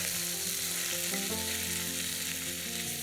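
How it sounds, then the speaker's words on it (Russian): Chopped pork belly frying in vegetable oil in a soup pot, giving a steady dense sizzle that runs throughout under soft background music, close and loud. "Немного ее обжариваем"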